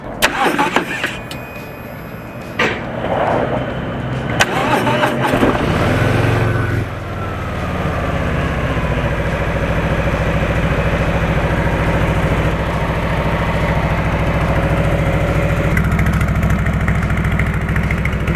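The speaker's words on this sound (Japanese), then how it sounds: "エンジンのサウンドチェック、まずはストリートボブからエンジンかけていきます。" A Harley-Davidson Street Bob motorcycle engine cranks and starts with a loud bark, then settles into a deep, steady idle close by, exhaling through slim twin silencers.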